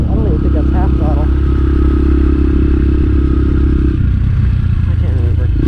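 Motorcycle engine held at partial throttle while riding on a bumpy road, a steady loud drone with a low rumble that drops in pitch near the end, blended with wind noise and occasional rattles and knocks.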